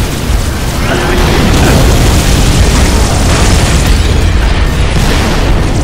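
Bombing run explosions in Halo: Reach roar loud and close, a continuous heavy rumble of overlapping booms and blasts filling the whole stretch.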